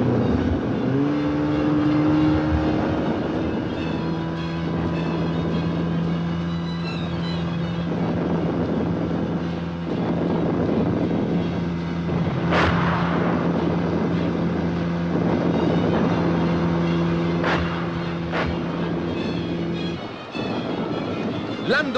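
Military assault boats cross open water in a river crossing under fire, a sustained engine drone with steady tonal hum, wind buffeting, and occasional sharp impacts.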